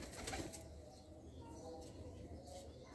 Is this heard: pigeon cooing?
yes